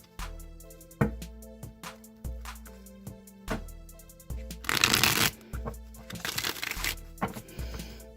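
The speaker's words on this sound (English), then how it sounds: "let's just go ahead and shuffle the Rider-Waite deck" A Rider-Waite tarot deck is shuffled by hand, with soft riffling bursts and flicking slaps of cards over a quiet musical background.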